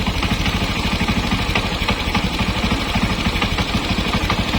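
A 225cc motorcycle with an upgraded six-speed gearbox idling close by, its engine ticking in a quick, even, slightly knocking rhythm over a steady low hum, alone without speech.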